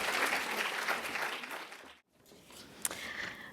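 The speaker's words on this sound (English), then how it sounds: "A round of applause as we welcome her up on stage." An audience applauds to welcome a speaker onto the stage, a steady wash of clapping that briefly dips before resuming more softly.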